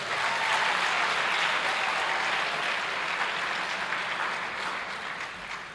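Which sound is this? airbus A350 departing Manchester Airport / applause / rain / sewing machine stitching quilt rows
applause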